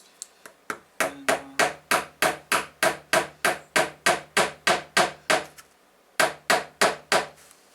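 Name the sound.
hammering a 3D printed prop popper tool into place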